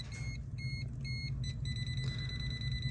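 A non-contact voltage tester beeping rapidly at an outlet with reversed polarity, a string of short high bleeps over a steady low hum, no speech.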